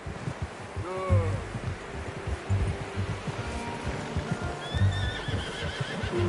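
A horse in the video game Red Dead Redemption 2 whinnies briefly while its hooves clip-clop in a steady rhythm close by, with a second fainter neigh later and some outdoor ambience.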